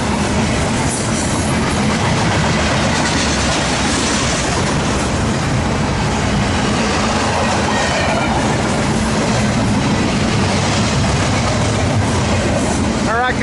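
An eastbound port stacker freight train rolls past at Daggett, a loud continuous rumble of cars and wheels with faint clatter and occasional squeal, steady from start to finish.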